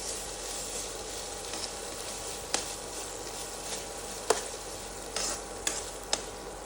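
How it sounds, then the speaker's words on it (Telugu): Khoa (milk solids) frying lightly in a pan for a bottle gourd and palm jaggery kheer: a steady, soft sizzle with a few sharp clicks of a utensil against the pan, moderately close, with no talking. "ఇప్పుడే 50 గ్రాములు పచ్చికోవా, దీన్ని కూడా వేసుకొని లైట్గా ఫ్రై చేసుకోవాలండి"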